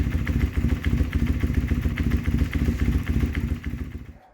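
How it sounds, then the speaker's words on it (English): A motorcycle with a stock exhaust idles close by at a Distinguished Gentleman's Ride event in Melbourne. It gives a loud, lumpy, rhythmic putter of rapid firing pulses that holds steady, then fades out at the end. "I always feel a surge of joy when I hear this bike idling"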